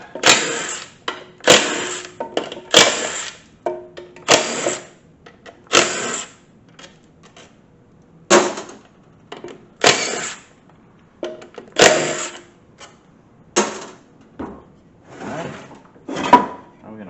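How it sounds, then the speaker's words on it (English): Pump bolts being removed from a Ford AOD transmission during a teardown: repeated bursts of ratcheting and whirring from a tool, roughly a dozen short spells separated by pauses, loud and close. "Get the pump bolts out."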